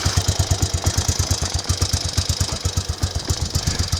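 A Triumph Tiger Cub motorbike engine idles close by, its steady rapid low thumping pulsing evenly throughout with no voices.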